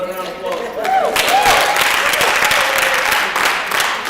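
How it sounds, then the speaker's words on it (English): Sustained audience applause at a gospel concert, a steady wash of clapping at full volume across the clip, with some crowd noise and brief voices mixed in. "Another round of applause."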